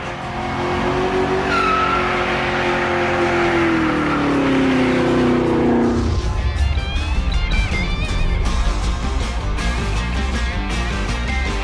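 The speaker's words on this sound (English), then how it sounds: "driving the brand new 2018 Chevrolet Camaro ZL1 1LE" A 2018 Chevrolet Camaro ZL1 1LE engine roars loudly as it revs through rising pitches under hard acceleration, then drops into a rougher, rumbling tone partway through, with some tire noise.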